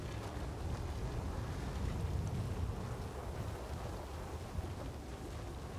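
A steady roar of heavy rain and low rumbling thunder from a storm in Star Wars Jedi Survivor, wind-driven and continuous, with no voices over it.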